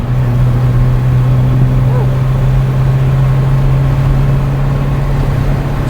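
A manual-transmission car engine drones steadily while driving as the driver works the clutch and shifts into third gear, a constant low hum inside the cabin with a faint voice underneath.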